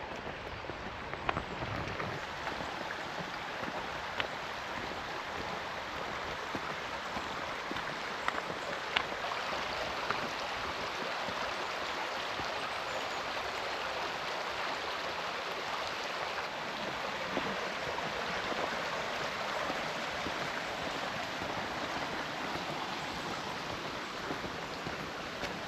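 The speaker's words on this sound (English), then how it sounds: "just watch the river flow by" A river flowing steadily past a quiet spot in a town with palaces and walled gardens, a continuous broad rushing wash with faint splashes, with no talking.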